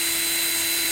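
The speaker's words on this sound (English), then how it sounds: "So now we'll go ahead and drill the hole." Power drill boring a hole in a pinball playfield door, a brief steady high whine with a constant motor tone, close and fairly loud, alone.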